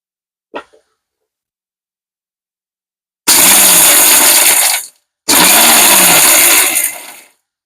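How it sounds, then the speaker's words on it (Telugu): A brief clink, then a mixer grinder whirs loudly in two short bursts of about two seconds each, separated by a pause. "మిక్సీ పట్టేస్తా అండి"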